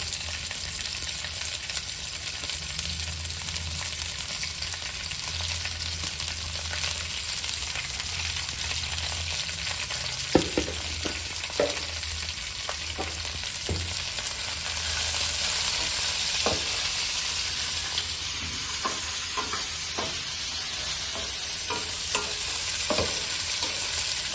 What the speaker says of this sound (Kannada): ಸ್ವಲ್ಪ ಬ್ಲ್ಯಾಕ್ ಕಲರ್ ಬರೋ ತನಕ ನಾವು ಹುರ್ಕೋತಾ ಇರಬೇಕು